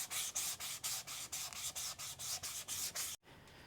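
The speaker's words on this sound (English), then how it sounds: "going over it a few times with the block sander" A block sander is rubbed rhythmically back and forth over the body of a bagged mini truck. About a dozen close, even strokes sound before an abrupt stop.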